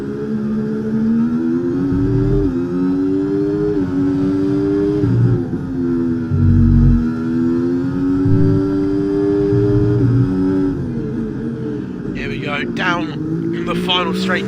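F1 race cars in an F1 racing video game scream through the gears, a loud high engine whine rising and dipping with each shift, while a commentator talks over it throughout.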